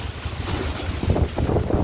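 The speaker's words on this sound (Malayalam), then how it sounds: "നല്ല പെരും കാറ്റ് നോക്കൂ" Strong wind roars and buffets the microphone steadily, a loud rushing noise with gusty swells and no talking.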